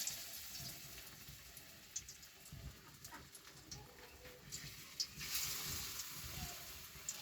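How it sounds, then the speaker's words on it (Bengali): Flattened spiced bora fritters frying in hot oil, a faint, steady sizzle and crackle with a few small pops, with soft background noises around it. "এবার চ্যাপটা করে আমি ভাজে নেব"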